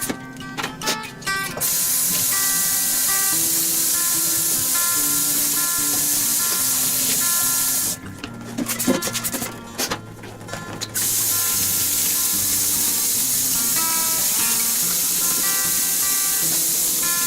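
Antibacterial cleaner is sprayed into a stainless steel kitchen sink: a few quick hissing squirts at first, then a longer cluster of close, sharp spray bursts midway, with quiet household background between.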